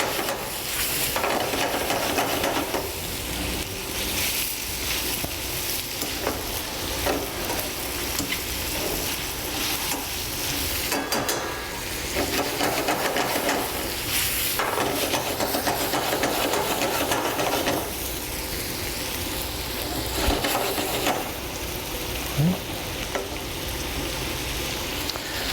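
Rice for risotto Milanese is tossed and sizzles in a hot pan, a steady dense hiss with rhythmic scraping swells of the grains shifting, loud and close with no talk.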